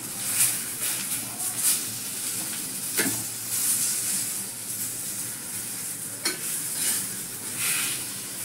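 Onions sizzle in masala in a pan, a dense close hiss with a couple of sharper scraping stirs and faint high whistles drifting over the frying.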